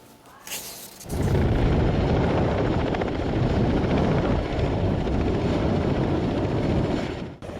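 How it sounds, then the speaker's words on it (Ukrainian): A K-226 utility helicopter flies nearby, its loud, steady rotor and turbine roar rising abruptly after a quiet moment and holding constant before cutting off at the end. "універсальний гелікоптер К-226 піднявся у повітря"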